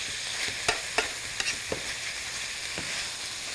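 Onions frying in a casserole pan for a chicken and Italian sausage stew, a steady soft sizzle with a few sharp stirring clicks and scrapes, close and without talk.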